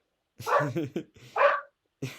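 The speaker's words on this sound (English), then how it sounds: "I don't know what she's barking at," A pet dog barks indoors during a podcast recording, three short, sharp barks close by with silence between them.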